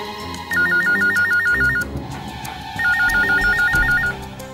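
A phone ringtone rings in two electronic warbling bursts, loud and close, separated by a short pause.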